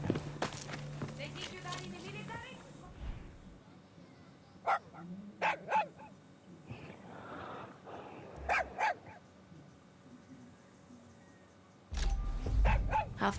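A dog barks in short bursts in Far Cry 6 amid in-game footsteps and clip-clop, a few sharp yaps spaced out over the scene while a voice talks briefly at the start.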